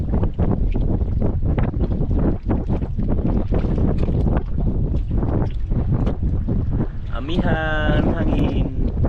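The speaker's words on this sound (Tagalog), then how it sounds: "Grabing hangin ay. Amihan na talaga idol. Paros. Paros yung hangin." Strong northeast monsoon wind gusts steadily across a Philippine coast where boats are moored, a continuous loud roar with heavy buffeting on the microphone, while someone talks over it.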